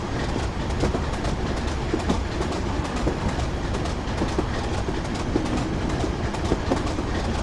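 A train coasts on its rails in Train Simulator 2015 between Darlington and Durham via Bishop Auckland. The wheels give a steady rolling rumble with faint rhythmic clicks, continuous and loud, with no voices.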